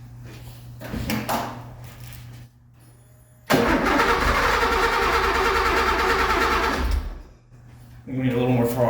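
A Porsche 911T engine freshly installed cranks and fires up, a loud sustained roar lasting several seconds before cutting off, with people talking before and after.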